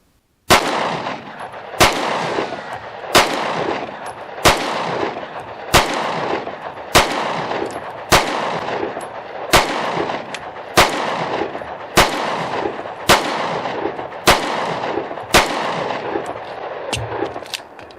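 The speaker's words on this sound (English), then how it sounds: "let's go ahead and fire 26 rounds of the MagTech ammo" A Taurus GX2 9mm pistol firing MagTech ammunition indoors at seven yards: loud sharp shots land singly at a steady pace about every second and a quarter, each with a brief room echo.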